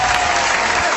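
Applause in the video game Doki Doki Literature Club, a steady wash of many hands clapping at once, loud and continuous throughout with no voices on top.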